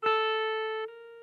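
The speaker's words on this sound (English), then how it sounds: "If you don't place your finger down firm enough, you will have a weak sound" A guitar hammer-on with the finger placed too weakly: a note struck sharply, sustaining evenly before its level drops noticeably partway through and rings on more quietly.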